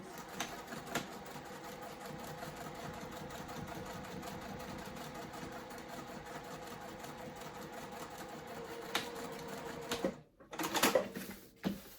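A sewing machine runs steadily, top-stitching a crossbody bag, with a continuous mechanical whir for about ten seconds, then a short pause and a brief burst of handling noise near the end.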